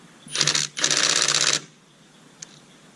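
A Milwaukee M18 Fuel impact wrench hammers at a rusty lug bolt in two loud, close bursts, a short rattle then a longer sustained one, followed by near silence and a faint click.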